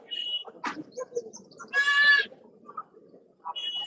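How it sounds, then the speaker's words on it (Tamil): Goats and kids at the Saturday goat market in Ettayapuram bleat near and far, one loud drawn-out bleat standing out among shorter calls, while birds chirp and faint background noise from the market continues. "ரெண்டு ஆடு நாலு குட்டி"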